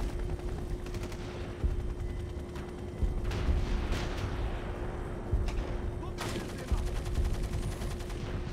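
Gunfire in the stealth shooter Splinter Cell: Double Agent, repeated bursts and single shots cracking at a moderate distance over a steady low hum, with someone talking over it.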